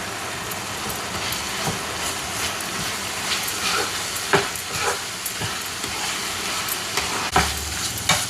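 Mutton keema frying in a pan with masala and curry leaves, a continuous close sizzle broken by repeated scraping strokes and occasional clinks as it is stirred.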